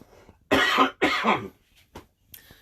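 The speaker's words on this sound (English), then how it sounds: "Excuse me, I'm going to cough." Two loud, harsh allergy coughs close to the mic in a clay studio, one right after the other, followed by quieter breathing and small rustles.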